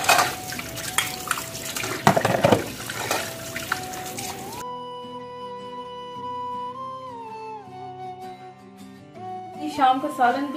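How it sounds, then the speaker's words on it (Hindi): Tap water runs and splashes while dishes are washed in the evening. Busy splashing and clattering comes first, then a voice speaks over quieter running water, and the splashing returns at the end. "इसके साथ मैं जल्दी से बर्तनों को भी धोगी"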